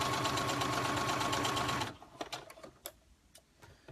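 A sewing machine hems a skirt of African print fabric, running loud and steady with a rapid even stitching rhythm for about two seconds before stopping, leaving faint clicks and handling noises.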